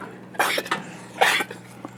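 Two short, raspy coughs from an alpaca, about a second apart, fairly close, with a few soft scuffs between them.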